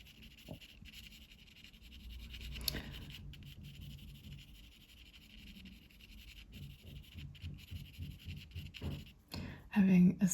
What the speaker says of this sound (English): Having a 6B pencil now